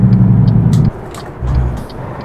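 Big rig truck in American Truck Simulator slowing with a loud low engine-braking drone that cuts off, followed by a quieter, weaker rumble returning.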